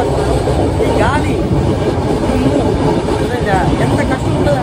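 Interior of a moving passenger train, filled with a loud, steady rumble and rattle of the carriage and wheels on the rails throughout, with faint voices in the background.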